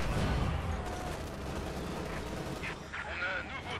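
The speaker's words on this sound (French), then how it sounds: "Tirez un barrage de mortier." Dense, rumbling battlefield noise with continuous distant explosions and gunfire, a muffled mortar barrage in Company of Heroes 2 rolling under faint voices.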